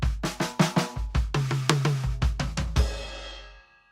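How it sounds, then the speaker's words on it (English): A drum kit plays a slow one-bar fill in 16th notes, alternating pairs of bass drum kicks with groups of hand strokes on drums and cymbals, evenly spaced and close, ending on a crash that rings and decays. "it's 2 in the bass drum, 4 in the hands, 2 in the bass drum"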